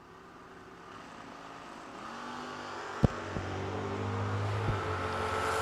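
Drag racing Mustang from Clayton, North Carolina making a bye run at a bracket racing event, its engine building steadily from a low rumble into a loud sustained roar, with a sharp bang as it launches.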